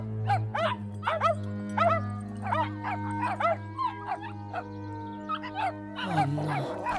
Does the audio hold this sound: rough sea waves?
no